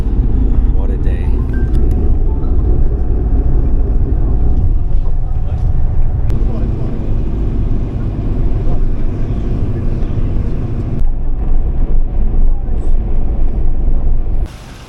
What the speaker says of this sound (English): There goes my bus.